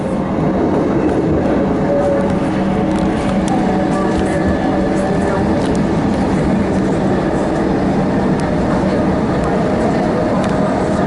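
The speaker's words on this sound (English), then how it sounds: "This train will terminate at Upfeild and come back." A train riding the Upfield line gives a steady onboard rumble with a continuous rolling hiss and faint rhythmic clatter of wheels on track throughout.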